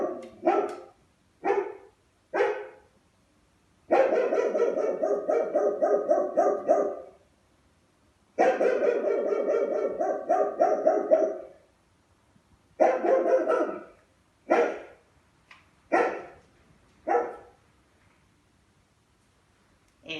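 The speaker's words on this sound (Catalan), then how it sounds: "És un gos!" A dog barking repeatedly, loud and close, in short single barks and longer runs of rapid barking separated by silence.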